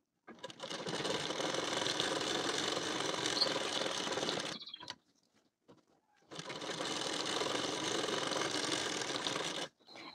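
Sewing machine stitching a half-inch seam along a blouse tuck, running in two long, steady bursts of close rapid stitching separated by a short pause.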